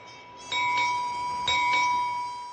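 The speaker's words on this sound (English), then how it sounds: "the unnamed ones like Newt and Trigg, off their watch at 4 bells, 10 o'clock to landlubbers" A ship's bell strikes four bells at sea, two quick pairs of clear metallic rings, each tone lingering and overlapping as it fades.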